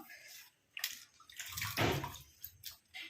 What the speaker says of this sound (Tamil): எடுத்து நல்லா இந்த மாதிரி தண்ணியில் வாஷ் பண்ணிவிட்டு